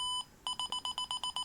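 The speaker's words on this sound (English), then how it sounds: "it's going to start beeping faster when it's ready to shoot" A Nikon D5500 camera gives a single short electronic beep, then after a brief pause a fast, evenly spaced run of bright beeps, clear and close in a quiet room.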